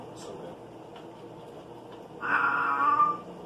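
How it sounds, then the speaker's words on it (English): A house cat lets out one drawn-out meow close by in a kitchen while pizza is being cut, following a brief spoken remark. "That was my cat."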